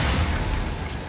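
A Glacius ice spell cast in Hogwarts Legacy: a loud, dense burst with a heavy low rumble and crackling, shattering texture that holds steady for about a second, then eases slightly.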